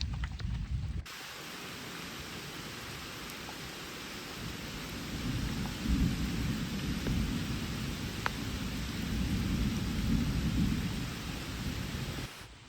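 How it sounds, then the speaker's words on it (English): Heavy rain pours down steadily, with deep rolling thunder rumbling through much of it, loud and continuous with no voices. "it's raining pretty hard and we heard some thunder"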